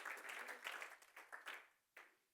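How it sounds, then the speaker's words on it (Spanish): Church congregation applauding during a Sunday service, a faint wash of clapping that swells in a few waves, fades, then returns in one brief final burst. "denle un aplauso al Señor porque es necesario"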